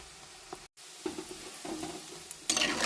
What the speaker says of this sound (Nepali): चिकन फ्राई गर्दैछु रातो हुने गरेर।